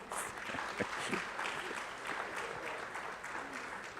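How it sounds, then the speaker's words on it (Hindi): Audience applauding at an Indian Coast Guard ship commissioning ceremony, a dense, continuous patter of many hands in a large gathering, steady and moderately distant, with no one speaking over it. "मैं समझता हूं कि यहाँ जो महिलाएं बैठी हैं, कम से कम तालियां उनकी तरफ से तो होनी चाहिए।"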